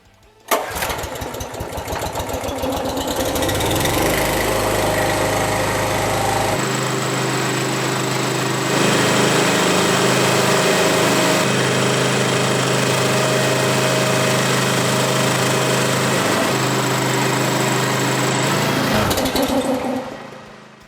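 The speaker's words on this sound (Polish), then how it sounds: "Zobaczmy w takim układzie, czy agregat poradzi sobie z kompresorem o mocy silnika" A Pramac portable power generator runs under load from a 2.2 kW air compressor, its engine catching and then roaring loudly and continuously with a buzzing mechanical whine before cutting off at the end.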